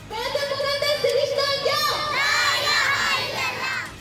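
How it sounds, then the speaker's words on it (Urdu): A crowd of children shout and chant pro-Palestine slogans at a protest outside the Peshawar Press Club, where they carry a symbolic coffin. Their voices rise together in loud, sustained, rhythmic cries that fill the space. "پشاور پریس کلب کے سامنے بچوں نے علامتی تابوت اٹھا کر مظاہرہ کیا اور فلسطین کے حق میں نعرے لگائے"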